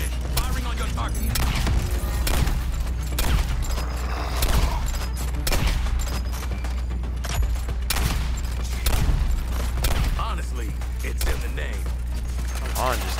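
Heavy weapon fire at a tower in the Suicide Squad video game, repeated loud shots and bursts with booming impacts over a low rumble, with character voices speaking through it.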